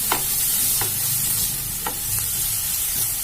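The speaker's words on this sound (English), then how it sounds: "Saute the onions until translucent." Onions sauté and sizzle steadily in a pan for a corn chaat dish, with a few soft stirring scrapes over the continuous frying hiss, close and without talk.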